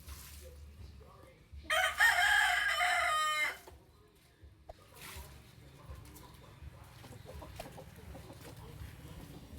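A rooster crows once, loud and close, followed by quieter clucking and faint background sounds.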